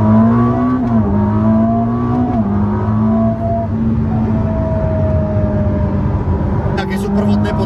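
Ferrari SF90 Assetto Fiorano hybrid supercar in race mode, its engine droning loud and steady throughout with gentle pitch shifts, heard from inside the cabin while people talk over it.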